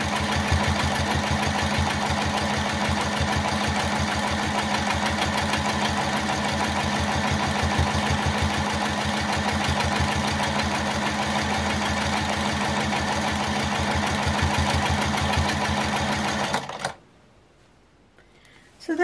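A sewing machine stitches around drawn circles in a circles-and-pebbles quilting practice, giving a close, loud, steady rapid whirring chatter that runs unbroken for about seventeen seconds, then stops abruptly into near silence.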